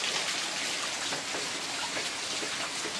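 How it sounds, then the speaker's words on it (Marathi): Monsoon rain falls over farmland in a steady, even hiss of many drops, moderately quiet and unbroken, with no voices. "तर आता पाऊस सुरू आहे"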